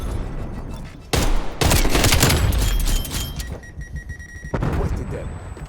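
A flashbang grenade goes off in Call of Duty, a loud blast among dense gunfire and explosions, followed by a high ringing tone during the muffled aftermath.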